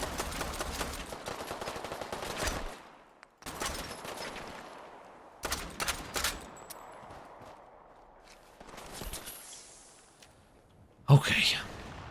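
Gunfire in Fallout 4 with enemy AI overhaul mods: loud separate volleys of shots, each ringing off into a fading tail, with quiet gaps between and a voice speaking over parts.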